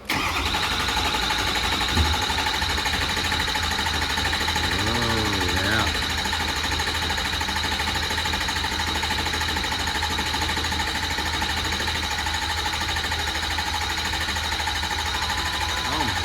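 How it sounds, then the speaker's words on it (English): A 6.0 Powerstroke diesel engine cranking at length, a loud, steady, fast mechanical whir and churn from the starter that keeps spinning without catching, with a brief voice partway through. "Now we'll see how long it cranks."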